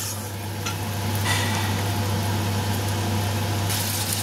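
Potatoes frying with spices and a little water in a pan give a steady, close, loud sizzle with soft stirring scrapes, running without pause and with no voices.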